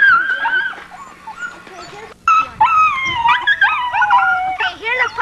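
Sled dog puppies in a kennel howl, whimper and yip close by, a string of high wavering cries with one short pause, loud and almost continuous.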